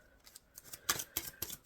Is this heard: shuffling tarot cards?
yes